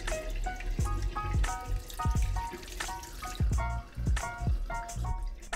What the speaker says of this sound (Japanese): 掃除用のスポンジに洗剤をつけて汚れやすい場所を洗っていきます。